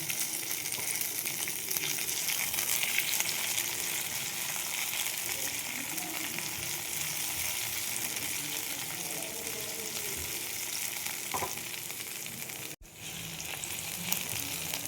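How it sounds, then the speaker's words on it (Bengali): Onion, bell pepper and capsicum sauté in a hot pan, giving a steady, bright sizzle that runs unbroken for the whole stretch. Faint stirring scrapes sit beneath it, and there is one brief gap near the end. "দেখো এইগুলো আমি একটু সটে করে নিচ্ছি।"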